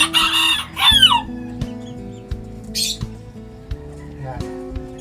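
Wild labuyo junglefowl giving clucks and short cackling calls at close range while it is held and handled, with a voice speaking over the bird in places.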